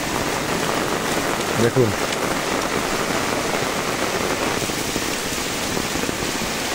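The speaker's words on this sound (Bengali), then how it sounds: "পর্যাপ্ত পরিমাণ বৃষ্টি হচ্ছে" Heavy rain pours down in Kaharol, Dinajpur district, a dense, steady hiss of drops drumming on surfaces throughout, with a voice briefly speaking over it.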